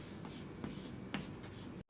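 A marker or chalk scratches across a board in a lecture on atmospheric temperature profiles, giving a few soft, close strokes over room hiss with no talking.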